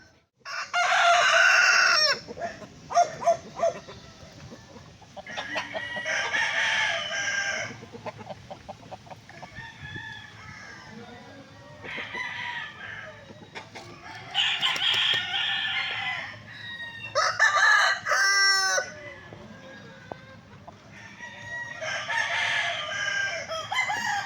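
A Sweater gamefowl stag crows several times on a farm, loud and fairly near, with clucking and other fowl sounds in between and a steady background hum.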